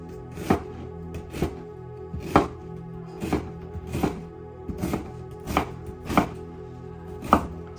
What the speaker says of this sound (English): So I'll start by cutting my onions.